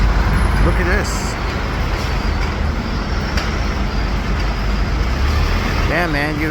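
Steady city street traffic in New York, a constant roadway rumble with passing vehicles and a brief horn-like tone near the end, with someone talking over it.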